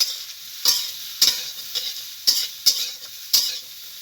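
Ridge gourd frying in a pan without salt, with a steady bright sizzle broken by about six sharp scraping stirs at irregular intervals, close and fairly loud, with no voices.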